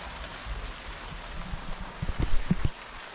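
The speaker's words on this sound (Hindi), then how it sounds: "बारिश बारिश बारिश।" Rain falling steadily in a mountain village, a soft continuous patter with a few closer drops hitting a surface near the end, fairly faint.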